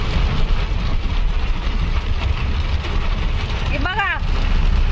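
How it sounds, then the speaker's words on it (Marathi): Heavy monsoon rain pours steadily and loudly as a close, dense wash throughout, with a brief voice speaking near the end. "पुढलं पण काही दिसत नाही तेवढा जोरात पाऊस आलेला आहे"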